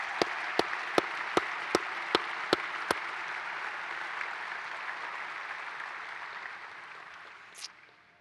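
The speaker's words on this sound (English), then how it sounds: "one last round of applause for you and everything you do" Audience applause at a college football coach's introductory press conference at Baylor, opening with several sharp, evenly spaced claps before a sustained wash of clapping that slowly fades away.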